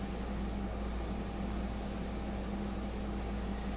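Steady airbrush spray hissing continuously throughout, a constant close-up rush of air with a low hum underneath and no talking.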